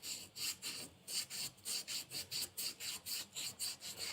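A rock is rubbed by hand with sandpaper in rapid, even back-and-forth strokes, a close, quiet rasping scratch repeating about four times a second.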